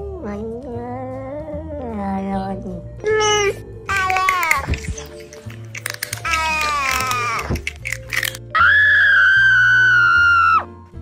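A voice imitates a cat, giving a series of drawn-out meows that rise and fall, some squealing and loud, close up.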